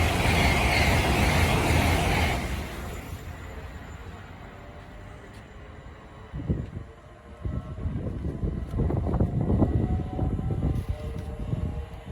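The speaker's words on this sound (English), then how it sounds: "passing through over here is a Great Western Railway service from London Paddington to Hereford" A Great Western Railway train passes through the station at Pangbourne, with a loud rushing roar at first that fades into a distant rumble, then rhythmic wheel clatter and rolling noise building again.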